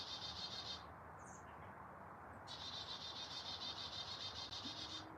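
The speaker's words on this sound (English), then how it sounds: "Y'all hear the bird?" An outdoor bird sings in a quick, high trilling phrase, falls silent for a moment, then starts again and carries on. The song is faint and a little distant over a low, steady background hum.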